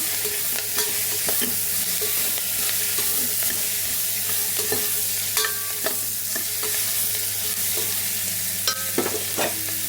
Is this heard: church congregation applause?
no